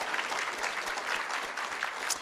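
Quiet, somewhat distant applause at a school board meeting as an audience claps for middle school students, a brief continuous patter of hands.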